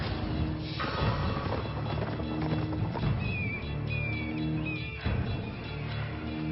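Horse hooves thud and crunch through dense brush on a hillside, with rustling branches and a few brief whinny-like squeals in the middle.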